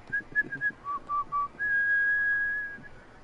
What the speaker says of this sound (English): you should really learn how to whistle